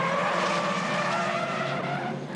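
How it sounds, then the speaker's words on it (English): V8 Supercar Commodore at a Darwin race, left front brake locked up, with a loud, sustained tyre skid and squeal layered over engine roar, holding steady close by before easing slightly at the end. "Jumped on the brakes, locked them up, and nowhere to go."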